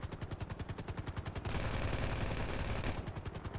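Rapid automatic gunfire in GTA V, a fast regular burst of shots for about a second and a half, then a denser roar of sustained fire with a few more distinct shots trailing at the end.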